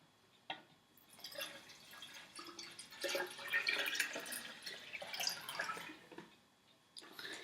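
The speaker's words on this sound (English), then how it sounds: "And add the water." Water is poured into a container holding lemon juice and sugar, giving a steady trickling, splashing stream that builds and then fades out over several seconds, with a faint clink near the start.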